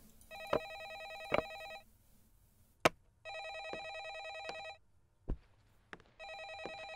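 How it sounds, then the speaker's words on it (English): An old-style telephone bell rings in repeated bursts with short pauses inside a horror video game, loud and clear with no talk over it, accompanied by a few sharp clicks and thuds between rings. "I am not answering that phone."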